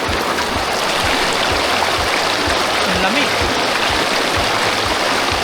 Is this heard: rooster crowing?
no